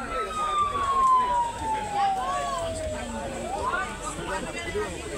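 An ambulance siren wails and sweeps down in pitch somewhere in the distance, partly buried under people talking nearby.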